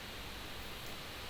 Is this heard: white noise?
yes